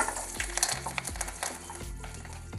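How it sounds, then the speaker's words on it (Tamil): Onions sizzle as they sauté in a pan for a drumstick-leaf chutney, with scraping stirs punctuating a steady crackle. The sound is fairly quiet and close, with no voices. "முதல் வெங்காயத்தை வதக்கணும்."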